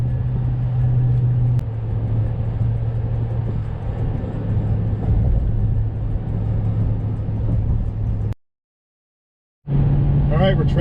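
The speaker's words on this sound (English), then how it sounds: "A lot of trucks on the road today." Trucks drive along a highway near the Ohio River crossing from Illinois into Kentucky, heard as steady road rumble and engine drone from inside a moving vehicle, with voices over it, a sudden cut to silence, then the rumble returns.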